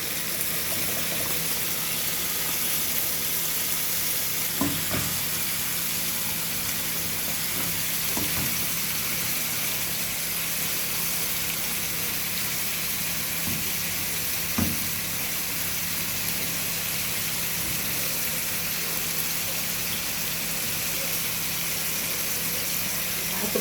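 Sausage and a piece of garlic frying in a pan, a steady hissing sizzle throughout with a few faint clicks and knocks now and then.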